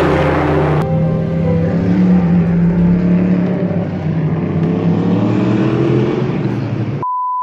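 A race car engine at Le Mans roars loudly and continuously, its pitch shifting as it runs, then cuts off into a short electronic beep at the very end.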